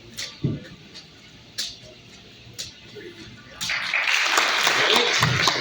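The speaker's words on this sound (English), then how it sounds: "Another round of applause." After a talk by Dr. Jaime Awe at BAS 2022, a few sparse knocks and voice sounds give way to a sudden swell of audience applause that fills the last two seconds, dense and steady.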